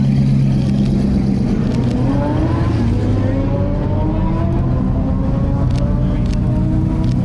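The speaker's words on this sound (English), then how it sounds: "Then there's Bugatti Bolide coming through." A Bugatti Bolide hypercar passes on a race track during a trackday, its loud engine note rising and sweeping through at close range over a steady background roar.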